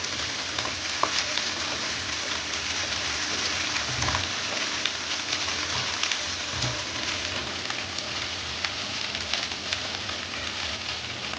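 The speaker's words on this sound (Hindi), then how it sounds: "अब इन आलूओं के साथ इसको भून लें।" Potatoes frying with fenugreek leaves in a pan for Punjabi aloo methi, giving a steady, dense sizzle with occasional soft stirring thumps throughout, no voices present.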